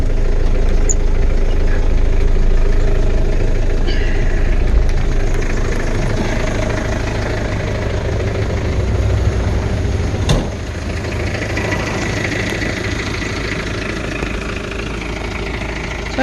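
A small engine with manual throttle control idles steadily and close by, a constant low rumbling putter with faint mechanical rattles, running alone without any talk.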